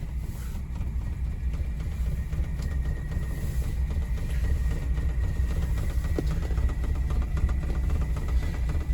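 A totally original 1959 Standard 10 classic car runs with a steady, loud low engine rumble that holds evenly throughout, with no talking over it.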